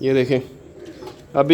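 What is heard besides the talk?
pigeons cooing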